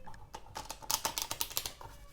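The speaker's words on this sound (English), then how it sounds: "If they don't know how to riffle shuffle" Playing cards riffle shuffled up close in a quick fluttering burst of crisp clicks and snaps, fairly quiet, lasting about two seconds.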